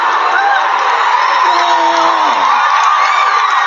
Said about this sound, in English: Let me get my hand clap going.